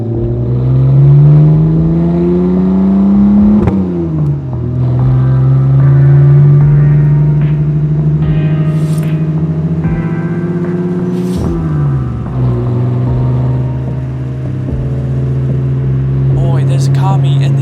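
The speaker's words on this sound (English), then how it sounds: "Ah, the Z4 Coupe. A stunning car." A BMW Z4 Coupe engine in the racing game Forza Horizon 4 revs and climbs through the gears, with loud rising whines and sudden drops at each shift.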